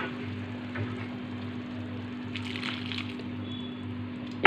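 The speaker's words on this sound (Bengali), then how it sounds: "এই বড় কাপের 1 কাপ দিয়ে দিলাম জল" Water poured into a cooking pot for a taro and fish curry, a soft continuous liquid rush close by over a low steady hum, with a brief brighter splash midway.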